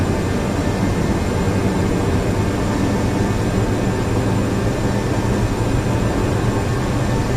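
Inside the cabin of a Qantas Boeing 747 Classic on approach, a constant loud broadband roar of engines and airflow continues without a break.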